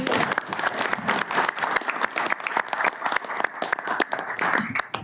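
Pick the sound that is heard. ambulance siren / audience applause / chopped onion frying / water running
audience applause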